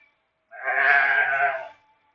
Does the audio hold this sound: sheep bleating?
yes